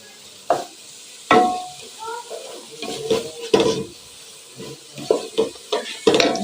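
Masala fries in a pan while a spoon stirs it, giving irregular scraping strokes and clinks against the metal over a light sizzle, close and moderately loud.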